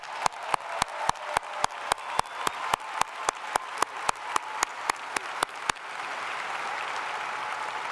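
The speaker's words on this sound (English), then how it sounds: "Parents, give them a round of applause, would you please?" Parents applauding at a college graduation ceremony, with sharp, evenly spaced claps for about six seconds followed by a softer, diffuse hall wash.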